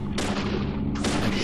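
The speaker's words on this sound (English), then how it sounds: "I shot you." Gunfire in the video game Deadly Premonition: two loud, broadband blasts about a second apart, each ringing on briefly, over a steady low in-game background hum.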